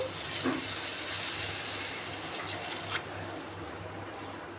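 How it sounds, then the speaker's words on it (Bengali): Water poured into a pan of spice-fried rice for hilsa pulao, a steady close pouring and splashing wash with a brief louder gush near the start, no voices. "এখন এখানে দিয়ে দিব আমি পরিমাণ মতো পানি"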